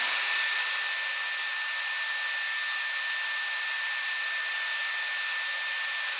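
A Dyson Airwrap hair styler blows hot air in a continuous, even rush with a thin high whine, steady and close throughout.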